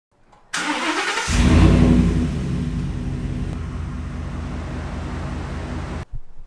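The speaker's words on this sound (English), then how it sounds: "That's the startup when you use the remote start key fob on those XBs" A 2013 Ford Raptor pickup fires up by remote start key fob: a sharp crank and loud rev flare close by, settling into a steady rumbling idle that then cuts off abruptly.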